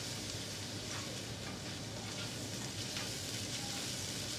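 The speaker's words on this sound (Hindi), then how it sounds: "ये मेरे पास 1 टेबलस्पून अदरक लहसुन का पेस्ट है, ये इसके अंदर जाएगा। और फिर हमने इसको हल्का सा फ्राई करना है" Ginger garlic paste fries lightly in a pan, a soft, even sizzle with fine crackling that holds steady for a few seconds, fairly quiet and with no voices.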